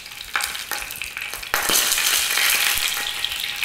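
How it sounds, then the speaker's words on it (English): Rack of lamb sizzles loudly in a hot pan, a bright hiss that swells sharply partway through after a few quieter bursts and clicks, close up with no voices. "It's a sizzly little guy."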